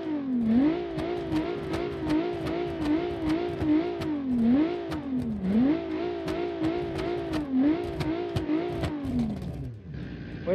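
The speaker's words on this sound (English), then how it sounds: "So what we have here is a 3-liter V6 naturally aspirated, 220 freaking horsepower." A naturally aspirated 3-liter V6 car engine, about 220 horsepower, revs repeatedly and loudly up and down in rhythmic blips, close by and alone with no talk, before dropping away at the end.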